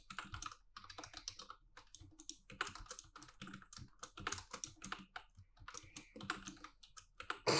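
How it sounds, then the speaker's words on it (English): Fingers type on a computer keyboard in quick, uneven bursts of soft clicks and taps, near and fairly faint, with short pauses between runs of keystrokes and no talking. "I'm very good at typing, as you can see."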